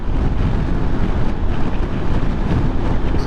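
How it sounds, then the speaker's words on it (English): Strong wind roars steadily across the microphone while a motorcycle heads over a large elevated bridge, a dense, buffeting low rumble that fills the clip without a break. "that wind is kicking up here"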